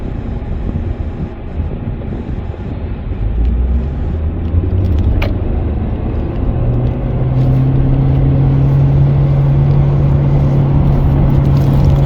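A 2022 Honda Civic RS turbo driven in Eco mode, heard from inside as a loud, steady low road-and-engine drone that builds gradually, with a rising hum settling into a sustained tone in the second half.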